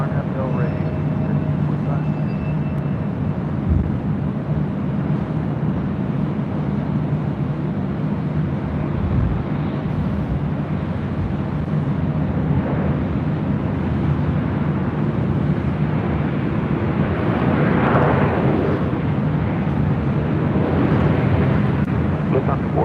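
A police aircraft takes off from runway 24 left at LAX, heard as a broad, sustained engine roar that swells slightly toward the end, with wind buffeting the microphone throughout.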